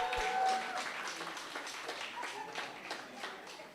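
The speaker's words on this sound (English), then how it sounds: "With a round of applause, please" Audience applause at an emergency medicine society conference in Ghana, a faint, distant patter of scattered clapping that continues for several seconds, quiet and diffuse in a large room.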